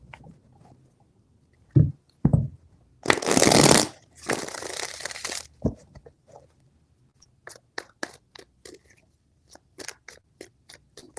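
A few loud bursts of riffling card noise, each lasting about a second, followed by scattered light taps and clicks in a quiet room.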